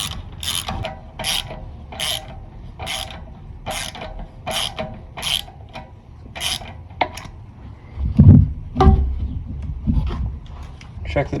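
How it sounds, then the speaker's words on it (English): Ratchet with a 14mm socket on extensions tightening the belt tensioner pulley of a 1988-1992 Toyota Corolla 4A-F engine: a close, regular series of about ten crisp ratcheting clicks, then a few heavier clunks and scrapes. "with a 14mm and a couple extensions, we'll tighten the tensioner pulley."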